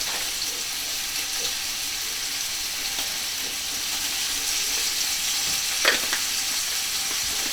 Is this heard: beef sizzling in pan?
yes